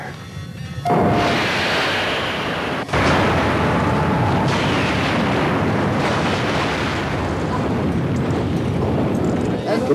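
Star Trek starship weapons fire and a huge explosion roar out loud and sustained, a dense rumbling blast that swells again partway through and stays heavy to the end.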